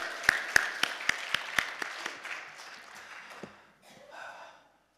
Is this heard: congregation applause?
yes